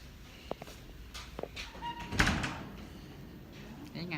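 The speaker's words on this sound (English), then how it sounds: "They're trying to open the doors." Hospital doors being worked open in a labor and delivery ward, a few knocks and a louder rattling push midway, with voices talking softly in the room.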